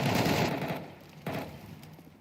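Burst of automatic rifle fire in a Counter-Strike match at the StarLadder Budapest Major 2025, a dense volley loud at the start, fading, then a second short burst before trailing off.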